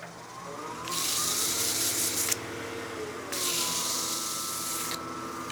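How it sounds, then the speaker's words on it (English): A 240-grit abrasive rubs a spinning wooden pizza cutter handle on a lathe, two steady bright sanding passes over the machine's constant hum, each lasting about a second and a half. "So we're sanding with 240 grit right now."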